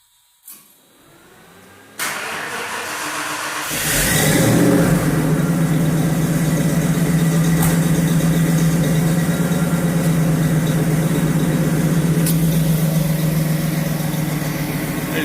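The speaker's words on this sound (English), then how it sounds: "I'm going to go ahead and start the car up." A 1971-73 Ford Mustang with a 351 Windsor V8 cranks briefly and fires up, then settles into a loud, steady, rumbling idle close by, with a fan whirring beneath it.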